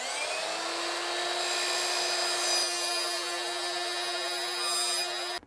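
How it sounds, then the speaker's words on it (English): A power saw fitted with an aluminum-cutting blade slices through Schluter aluminum tile trim, a loud, steady high-pitched whine that shifts partway through the cut and cuts off abruptly at the end. "I just stepped up and got myself an actual aluminum laminate cutting blade."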